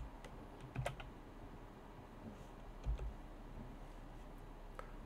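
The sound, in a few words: typing Powershell into Windows 11 search on keyboard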